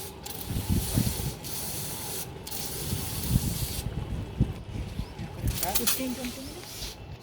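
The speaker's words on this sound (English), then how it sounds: "We are spraying it with a hand sprayer." Repeated hissing bursts from a hand sprayer misting plant leaves with organic pest solution in a terrace garden, loud and close, with some background rustling and a brief voice near the end.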